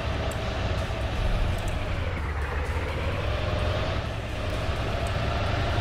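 A KrAZ truck engine in Farming Simulator 19 drones steadily as the truck drives, a continuous dense rumble with no pauses and no talking over it.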